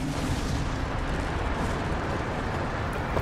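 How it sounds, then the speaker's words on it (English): Explosion in Dragon Age: Inquisition, a dense, sustained roaring blast filling the whole moment at high volume with no quiet gaps. "I think we should explode it"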